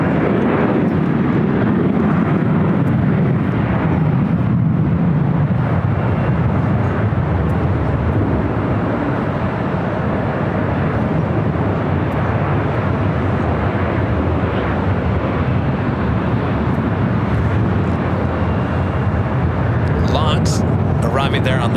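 An Embraer E-Jet airliner at LAX roars steadily and loudly for the whole stretch, a broad continuous engine rumble with wind buffeting, heard from a nearby hotel spotting point.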